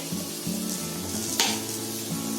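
Masala with turmeric and salt being sautéed in a pan for a Konkani fish thali, making a steady close sizzle with rhythmic spoon scrapes. A single sharp clink sounds midway.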